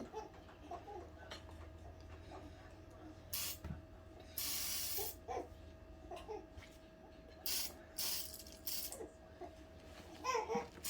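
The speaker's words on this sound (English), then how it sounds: "now we're gonna pump the oil so the waffles won't stick" A pump sprayer mists cooking oil onto a waffle iron: several short, breathy hissing bursts come close and fairly loud, with faint chatter and background voices between them.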